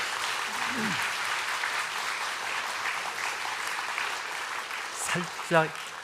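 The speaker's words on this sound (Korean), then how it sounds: "여러분 박수로 한번 격려해 주십시오" A church congregation claps during a Sunday worship service, a steady wash of applause lasting several seconds, with a few brief voices and a short exclamation near the end.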